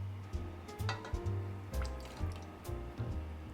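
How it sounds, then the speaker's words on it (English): Hot vegetable broth being strained back into a pot in a kitchen, a run of splashing pours and drips with several distinct gushes, fairly quiet and close, no talking. "So you're gonna strain it and then put it back in the pot."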